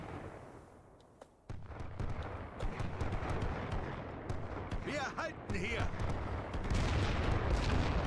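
Artillery fire in the World War I strategy game The Great War: Western Front around Verdun, booming and thudding with scattered gunfire over a dense rumbling battle bed, while a voice talks over it.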